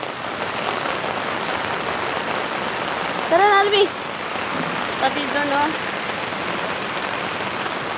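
Heavy typhoon rain pounds down steadily on surfaces amid flooding, a dense, continuous hiss close around, while a person calls out briefly over it.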